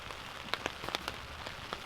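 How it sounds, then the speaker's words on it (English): Rain patters steadily on a tarp over a winter hammock camp, with a soft continuous wash broken by sharper drips and drops landing close by, and no voices. "Rain on a tarp, and you're nice and dry."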